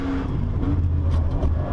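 A Nissan GT-R Nismo's engine pulls hard in fourth gear, climbing to the highest point of the Nürburgring, a loud, continuous, steady roar heard from inside the car.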